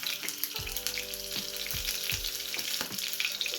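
Curry leaves, a green chili and asafoetida crackle and sizzle in hot oil for a tempering, a steady close, loud hiss with a few stirring knocks.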